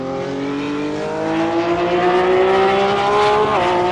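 GT3 race car in an Imola racing video game accelerating hard, a loud continuous engine whine climbing steadily in pitch before a quick gear shift near the end, no talk over it.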